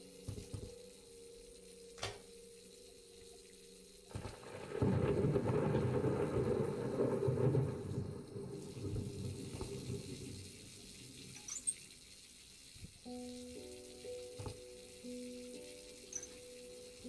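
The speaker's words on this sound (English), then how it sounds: "That is the sound of water running?" Water runs steadily indoors as a broad, moderate rush for several seconds in the middle, then fades to a low hum with scattered faint knocks. No one speaks.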